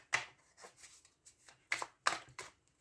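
A tarot card deck being cut by hand: a few soft, crisp card riffles and snaps in quick separate bursts, close and quiet with no talking during them.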